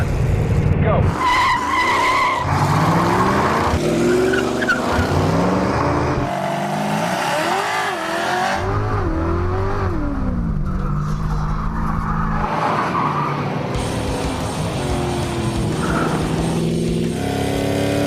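Several cars including a Super Bee, El Camino, Ranchero and Charger launching in a drag race, loud engines revving and rising in pitch with tire squeal and skidding, close and overlapping, with voices faintly beneath.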